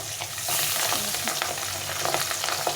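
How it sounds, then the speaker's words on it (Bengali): Pabda fish frying in hot oil, a loud, dense, steady sizzle with crackling spits, close and without pause. "এইভাবে মাছগুলোকে ভালো করে ভেজে নিতে হবে"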